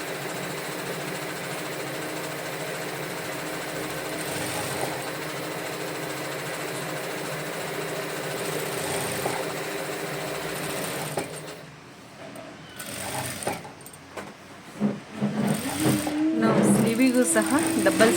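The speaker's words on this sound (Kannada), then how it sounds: "ಈಗ ನಾನು ಸಿಂಗಲ್ ಸ್ಟಿಚ್ ಹಾಕ್ಕೊಂಡಿದ್ದೀನಿ" A sewing machine runs a single line of stitching along a blouse sleeve, a steady close mechanical whir, then breaking into short uneven bursts with stops and restarts, with a voice talking over it.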